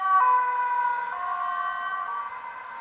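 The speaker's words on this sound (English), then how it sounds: "Police car." A police car siren on a city street in Utrecht, Netherlands, heard from a bicycle: a loud, clear two-tone wail shifting pitch steadily, with faint traffic underneath.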